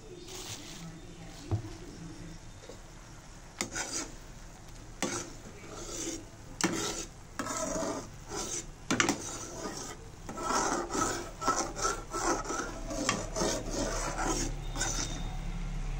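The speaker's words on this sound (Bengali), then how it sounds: "আর এইদিকে পেঁয়াজ কাটতে নিতেছি মাছের জন্য।" Onions being cut on a board with a knife, heard as irregular close scraping and tapping strokes over a faint background hiss, growing busier toward the end.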